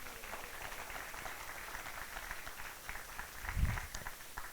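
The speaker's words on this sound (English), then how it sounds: "So you guys want to give them a round of applause?" Audience applause rises in a crowd, a soft, moderately distant patter of clapping hands that stays fairly even, with a brief low thump near the end.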